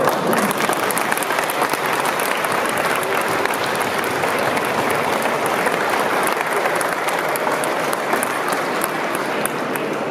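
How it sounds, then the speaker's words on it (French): Sustained applause from a large crowd, dense and steady clapping that fills the whole stretch without a break. "vous pouvez m'applaudir parce que c'est quand même pas mal"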